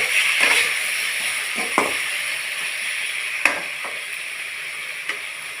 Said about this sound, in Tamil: கடுகு பொரிஞ்சதும் ரெண்டு வரமிளகாவை இப்படி கிள்ளி செட்டுருங்க ஒரு கொத்து கருவேப்பிலை